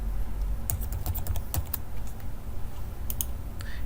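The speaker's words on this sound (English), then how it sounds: "type in the date, move over here, type in the material" Keys tapped on a computer keyboard while filling in notes on an engineering drawing, a few scattered bursts of quick strokes over a low steady background hum, moderately close.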